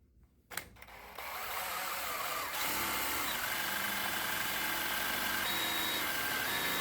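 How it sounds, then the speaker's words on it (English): Drill boring a bolt hole for a rear suspension mount in a DIY 4-link setup, starting with a clunk and then spinning up into a steady, sustained whirring grind that keeps going to the end. "We'll get the top hole for our mount drilled."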